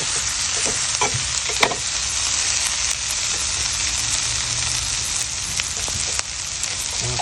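Salted dry fish being stir-fried Jaffna style with chilli powder and sugar, a constant bright sizzle under repeated scraping strokes of a spoon in the pan, close and steady, no one speaking.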